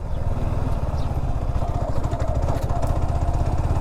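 Low, throbbing motorcycle engine running steadily on a mountain road toward Nal Damyanti lake, with rpm dropping on its own and a sluggish response, a dense rapid putter close up with no talk over it.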